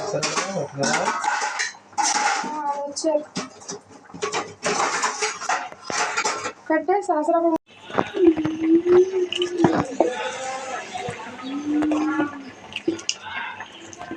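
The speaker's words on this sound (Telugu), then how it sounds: "బంగాళదుంపలు అయితే స్మాష్ చేసేస్తున్నాను" Boiled potatoes being smashed in a metal pot, with repeated clattering and scraping of a utensil against the pot and a voice speaking nearby.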